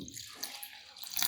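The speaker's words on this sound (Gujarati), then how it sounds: "આમાં આપણે ઠંડુ પાણી એડ કરી દઈશું." Cold water from the fridge being poured into idli batter made with jowar, a brief, close splashing trickle of liquid that swells louder toward the end.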